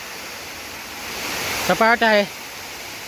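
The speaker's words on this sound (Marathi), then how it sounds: "एकदम पाण्याचा धबधबा" A waterfall high on a hilltop pours in a steady, even rush of water from start to finish, while a voice briefly speaks over it near the middle.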